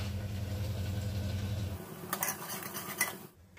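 Green peas tipped into a hot pan of spices with dried fenugreek leaves, giving clattering, scraping pan and utensil sounds over a low background hum, with a brief louder stir near the end.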